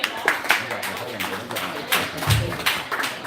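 An audience claps in loose, scattered bursts, a handful of distinct nearby claps rising and fading rather than a full ovation, with people talking in between.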